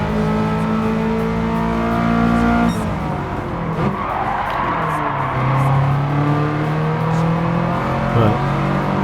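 A race car engine in Gran Turismo 7 drones loud and close, revving up and down through gear changes with a brief tire squeal as it takes a curve.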